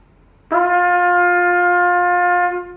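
One held brass tone, slightly higher in pitch, begins abruptly and sustains evenly for about two seconds in quiet surroundings.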